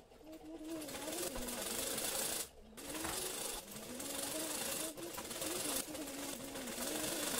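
A sewing machine stitches the neckline of a katori blouse with a continuous, close, humming whir and one short pause.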